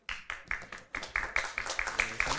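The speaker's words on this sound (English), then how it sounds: "Give applause for Group 1" A small audience at a summer course closing ceremony claps, starting with a few separate hand claps that quickly build into a rhythmic, fairly close round of applause with individual claps still distinct.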